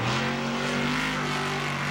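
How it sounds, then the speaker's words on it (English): Off-road racing truck engines, including a Roush power plant, roar loudly at an off-road race, a low, throaty drone that holds steady and slightly shifts pitch as they pass. "the low, throaty sound is coming out of that Roush power plant for Kurt Leduc."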